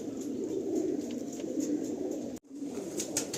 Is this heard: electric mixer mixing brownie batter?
no